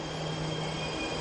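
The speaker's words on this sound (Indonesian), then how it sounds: "kereta nih pas baru nyampe" A train pulls into a station with a steady rumbling roll and a faint high wheel squeal, heard at moderate distance over a continuous background hum, with no one talking.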